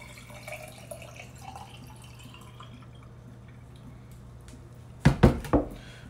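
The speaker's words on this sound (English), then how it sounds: "I'll pour the water in" Water is poured into a drink mix in a few short splashing bursts near the end, after several seconds of quiet room hum.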